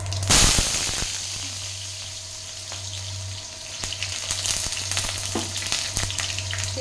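Dried chili, bay leaf and whole cumin hit hot mustard oil with a loud initial crackle, then settle into steady close sizzling with occasional pops and stirring clatter, no talking.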